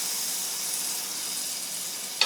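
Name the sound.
stirring cream and white wine sauce in a pan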